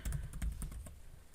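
Keys on a computer keyboard tapped in a quick, steady burst while a method name is typed during code refactoring, close and clear with no talking.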